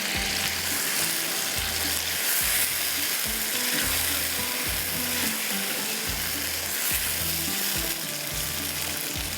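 A yogurt mixture slowly roasting in a covered pot over a low flame, giving a loud, continuous sizzle with faint rhythmic rattling underneath and no talking.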